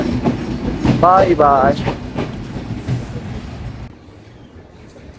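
A train rolls past the platform at Chuadanga Railway Station in Bangladesh, a steady rumbling clatter under nearby voices that fades away after about four seconds.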